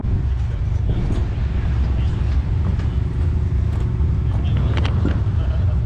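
Race cars, including a 410 wing sprint car, running at St. Francis County Speedway in Farmington, Missouri, a steady loud engine roar with wind buffeting throughout, heard from the track side.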